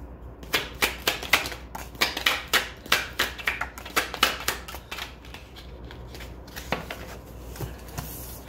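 Tarot cards being shuffled and drawn, a dense run of quick crisp riffling snaps and taps close by that thins out into softer handling near the end, with no talking.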